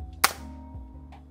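A Ballista Bat Reverse crossbow with a magazine fires once: a single sharp, loud snap near the start, followed by a fading ring and a faint mechanical click, close to the listener with steady low hum behind.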